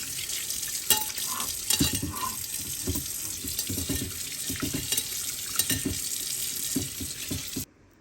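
Running tap water splashes over a frying pan as it is rinsed in a sink, a steady gush broken by light knocks and clatters of the pan, close by, before stopping abruptly.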